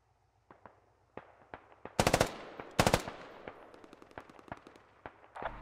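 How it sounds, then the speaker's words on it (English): Gunfire exchanged between soldiers in the woods in a military video game: sharp single shots and rapid automatic bursts, some close and loud, others fainter, trading back and forth in an irregular rhythm with no voices. "They seem content to just sit here in the woods and trade fire."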